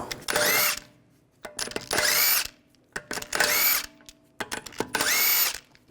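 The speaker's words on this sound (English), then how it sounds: "Using a 17mm socket, take the lug bolts out." Cordless power drill with a 17mm socket spins out lug bolts on a 2009-2017 Volkswagen Tiguan wheel, four loud close bursts of whirring separated by short pauses with small clicks and rattles.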